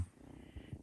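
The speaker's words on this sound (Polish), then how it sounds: "Słychać jak mruczy?" A cat purrs softly up close, a low rumbling purr with slow, rhythmic pulses, with no talking over it.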